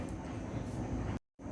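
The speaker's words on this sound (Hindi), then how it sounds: "पास में ही रेलवे स्टेशन भी है। इसका भी हॉर्न हमेशा आता है" A train at a nearby railway station rumbles steadily and loudly, a dense low continuous roar that cuts off abruptly into a brief silence near the end before resuming.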